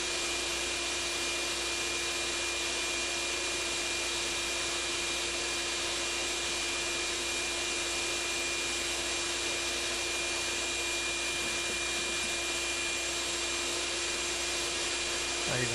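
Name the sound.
vacuum cleaner running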